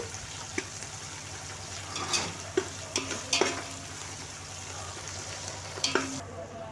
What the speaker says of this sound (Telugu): ఈ విధంగా కలుపుకుంటూ ఎంచుకోవాలండి